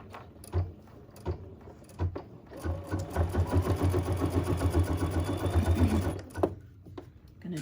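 An embroidery machine in the hoop runs at under half speed, stitching an applique down a nose. A few short starts come first, then a continuous rapid mechanical whirring for about three seconds that stops abruptly.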